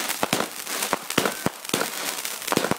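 Fourth of July fireworks and firecrackers going off all around, a rapid, loud, irregular string of sharp close bangs and crackles with no pause between them.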